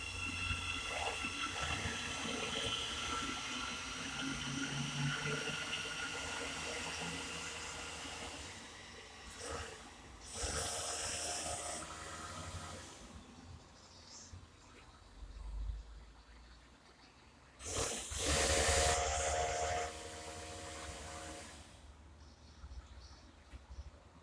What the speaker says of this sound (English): As now passing is the 1443 Great Northern service to Welham City.